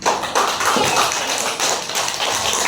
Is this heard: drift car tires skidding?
no